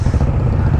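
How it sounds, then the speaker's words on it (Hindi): Several motorbikes, a Royal Enfield Bullet leading, ride together, a steady loud low engine rumble with slight clatter, close and continuous throughout. "आशीष आ गया भाई जो बुलेट में आगे जा रहा है, एंड चार बाइकें जा रही है इस बार"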